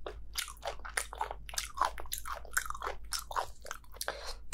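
Close, crisp crunching bites and chewing of thick-fatted raw bluefin tuna sashimi, a rapid series of sharp crackly crunches over a quiet low hum, with no talking.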